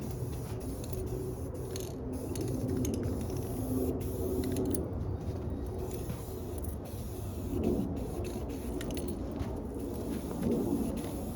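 Aerosol spray paint cans coating a metal work cart during a DIY restoration, a continuous hissing spray with faint mechanical clatter and short breaks between bursts, fairly close.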